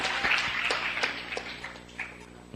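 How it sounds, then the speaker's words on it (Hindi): Scattered audience clapping breaks out at a poetry contest in Aurangabad, uneven claps and bursts rising and thinning over a couple of seconds, moderately faint and set against a roomy background. "तालियां बजाइए, जोरदार तालियां, तालियों में गूंज में।"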